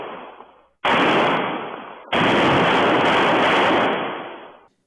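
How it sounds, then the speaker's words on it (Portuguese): Gunfire from armed robbers arriving at banks in the small town of Cambará, captured on a security camera: two long, loud, harsh bursts of rapid shots following a fainter burst, with no voices. "Os disparos em sequência são para amedrontar a pequena população de Cambará"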